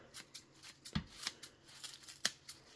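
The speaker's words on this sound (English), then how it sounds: "So what I always do is I just start cutting around the batch." Herb scissors snip through a bunch of fresh cilantro in a quick run of close, crisp little cuts, each one a short papery shear with no talking.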